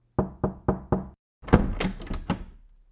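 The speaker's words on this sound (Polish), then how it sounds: "Stuk puk." Four sharp, evenly spaced knocks on a wooden door, close and loud, followed after a short pause by a longer clattering burst of rattling thuds that fades out.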